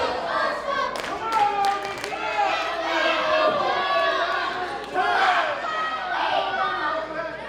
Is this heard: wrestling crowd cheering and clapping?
yes